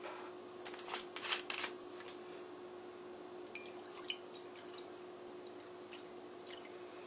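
Vinegar poured for a brisket mop sauce, giving a soft trickling, dripping liquid sound with a few brief splashy bursts near the start, fairly quiet over a steady background hum.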